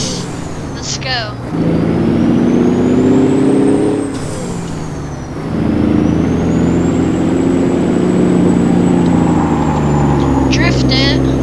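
Truck in American Truck Simulator drives along with a loud, steady engine drone that rises and shifts through gears, with a sharp air-brake hiss near the start and end.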